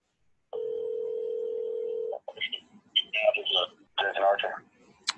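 A telephone call rings out with one steady ringback tone lasting under two seconds, clear and alone, before people start talking.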